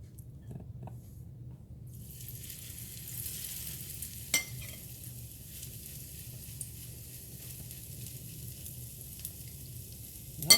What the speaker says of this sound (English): I'm getting ready to fry some here